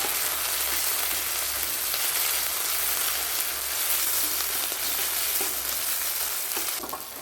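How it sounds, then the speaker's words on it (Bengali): Ginger paste frying in hot oil in a pan, a loud, even hiss of sizzling up close that runs on steadily with small crackles and eases slightly at the very end, no speech. "আমি মাঝখান দিয়ে তেলের উপরে পেস্ট করে রাখা আদাটা দিয়ে দিচ্ছি, দিয়ে একটু ভালো করে ভেজে নিচ্ছি"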